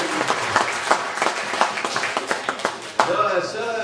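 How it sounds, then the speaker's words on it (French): A school theatre audience claps, uneven and moderately loud with distinct individual hand claps, and a voice begins speaking near the end. "On peut les applaudir."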